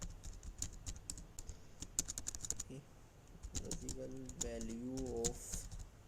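Quick bursts of clicking keystrokes on a computer keyboard while entering C++ code, light and close, interleaved with someone talking.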